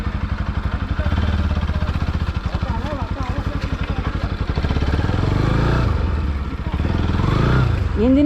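A motorcycle engine labours on a road near Pokhara, Lekhnath, with a heavy, low chugging pulse that wavers and surges, rising sharply near the end.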